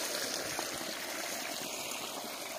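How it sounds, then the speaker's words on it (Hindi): Water runs from an opened supply through a newly built drain, a steady close rushing trickle and gurgle throughout with no voices. "ऐसे खोल दिए हैं पानी, देखते हैं पानी कैसे कैसे किधर जाता है।"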